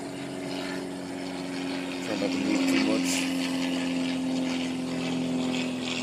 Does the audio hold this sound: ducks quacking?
no